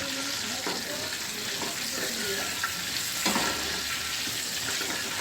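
Slices of pointed gourd (potol) fry in hot oil in a pan, giving a continuous soft sizzle with occasional stirring scrapes and small pops, close by and without talk.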